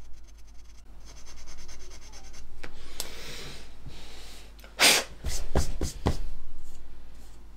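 A sanding stick rubbed on a plastic model aircraft fuselage, close scratchy strokes building to quick sharp rasps near the end, with no talk.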